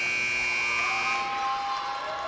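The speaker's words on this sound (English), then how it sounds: "I thought the buzzer was going off, but it didn't. There it goes." A scoreboard buzzer sounds at the end of a high school basketball game between Eastern View and Courtland: a loud, sustained electronic tone that holds for over a second, then shifts and fades into gym ambience.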